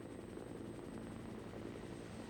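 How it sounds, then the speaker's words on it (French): A helicopter's engine and rotor make a steady, low droning thump with a thin high whine above, constant and moderately distant, with no talking. "L'hélicoptère ne s'arrête que quelques instants avant de repartir vers la base."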